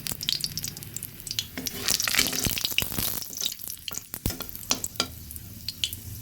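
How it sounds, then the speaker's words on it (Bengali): Dried red chillies, each split in two, crackle and sizzle in hot oil in a Bengali kitchen, the busy frying hiss broken by sharp spits and pops while a spoon occasionally stirs the pan. "শুকনো লঙ্কাটা ফোড়নে দিলাম"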